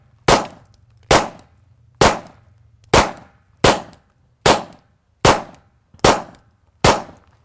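Nine sharp pistol shots ring out at an even, unhurried pace during junior camp firearms training, each crack loud and close with a brief decaying tail, and a low hum between shots.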